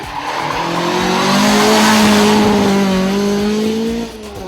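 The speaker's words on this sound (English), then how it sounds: "Greg Cozier was also thrilling the crowds with his Ford Escort Mark II." A Ford Escort Mark II rally car races at Rally Barbados, its engine loud and close with a rising then falling tone as it slides past, tires squealing, before the sound drops away near the end.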